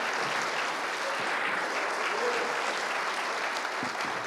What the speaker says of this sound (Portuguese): Vamos aplaudir ao Senhor pelo sábado.